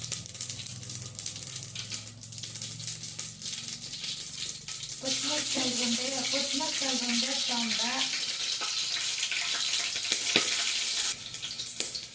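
Chicken curry frying in hot oil with sauces in a village-style kitchen, a steady broad sizzle running throughout, with a voice speaking over the middle stretch.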